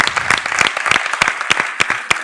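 A room of people applauds a candidate at an Italian Chamber of Deputies presidency hearing, with dense, loud clapping throughout and a few sharper individual claps standing out.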